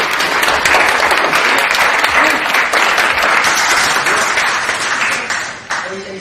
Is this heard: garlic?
no